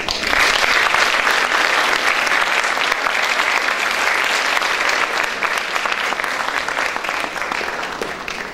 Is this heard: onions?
no